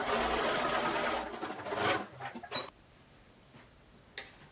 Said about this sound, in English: I'm stitching my gap closed